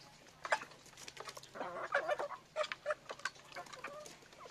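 Province-type chickens cluck and murmur in a quiet farm pen: a loose run of short, soft clucks and chatter from several birds, fairly faint and close, with a low hum beneath.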